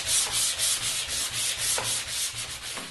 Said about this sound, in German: Die Leimreste können wir wegschleifen.